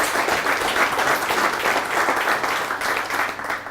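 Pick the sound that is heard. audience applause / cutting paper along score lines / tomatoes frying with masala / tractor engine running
audience applause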